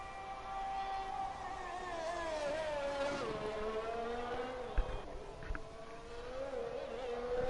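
An Aston Martin Formula 1 car on a flying lap in an F1 racing game at Mexico gives a thin, steady engine whine whose pitch slides down and climbs again through gear changes, fairly quiet throughout.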